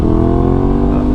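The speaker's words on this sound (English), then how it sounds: "Oh, that exhaust." A 2021 Aprilia RS660 motorcycle exhaust droning loudly and steadily at revs, a deep continuous engine note heard close up for about a second with no talk.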